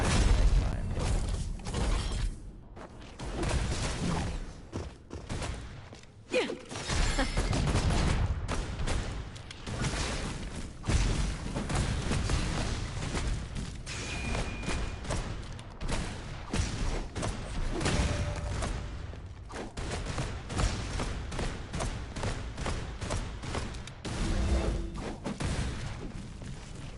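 Grenade-style bomb blasts in a video game, a dense run of thuds, booms and shattering bursts packed close together over a steady roar of game noise, with no voices.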